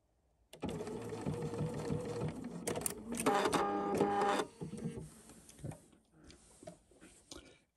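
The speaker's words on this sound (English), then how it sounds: "now my line of stitching is done" Sewing machine running a line of stitches on a welt pocket, a close rapid mechanical whir in continuous bursts that speed up and pause, then stop, with no voices.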